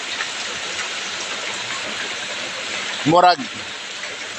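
Strong tropical rain falls in Bindoy, Philippines, a loud steady close hiss of downpour, briefly overlaid by a short spoken word.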